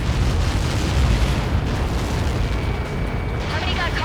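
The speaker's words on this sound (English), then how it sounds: "How many got caught in that explosion?" Huge explosion in the combat flight game Ace Combat 7, a loud, dense, sustained roaring rumble with broad low-end weight that fills the whole stretch, with faint radio-style voices mixed in.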